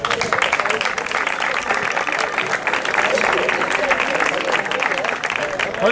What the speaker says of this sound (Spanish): Fuerte aplauso para ellos tres.